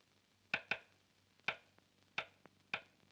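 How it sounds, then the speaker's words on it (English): Five sharp knocks on a door in an old 1940s film, loud and close, in an irregular pattern of a quick double knock followed by three single raps spaced apart, each with a short decay, with no talking. "I had a special way of knocking."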